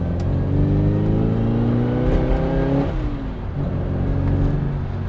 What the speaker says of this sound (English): raspy and chuggy A-Series engine